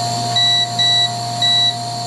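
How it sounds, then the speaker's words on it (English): A darkroom timer being set gives three short, bright electronic beeps, evenly spaced and close, over a faint steady hum. "We're going to set the timer here to..."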